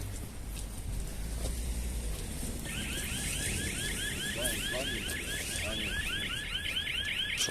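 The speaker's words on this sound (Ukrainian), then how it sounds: "що за сигналізація?" A car alarm starts up partway through, a repeating warbling electronic siren cycling steadily, somewhat distant over outdoor background noise.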